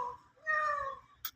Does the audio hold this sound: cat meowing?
yes